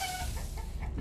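Chickens cluck in the medieval village-building game Manor Lords, a brief, soft burst of clucking over a low background hum.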